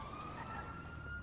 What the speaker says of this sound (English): There's an ambulance outside.